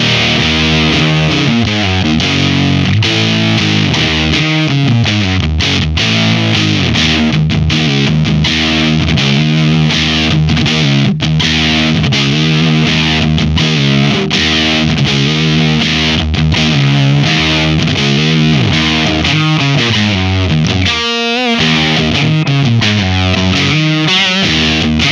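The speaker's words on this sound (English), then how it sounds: "In this video, we're checking out the Benson Germanium Fuzz." An electric guitar runs through a Benson Amps Germanium Fuzz pedal, giving a thick, saturated distorted tone with sustained chords and riffs played continuously and loud, with a brief gap and a sharp picked flourish near the end.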